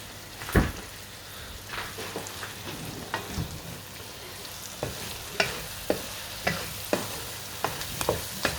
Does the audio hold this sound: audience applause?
no